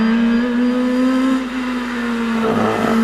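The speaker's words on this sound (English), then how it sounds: "Andrew Till gets away in the Honda Civic" Honda Civic Type R race car pulling away from the start line at the Prescott hillclimb, a steady loud engine note climbing in pitch as it accelerates, with a brief change in tone near the end.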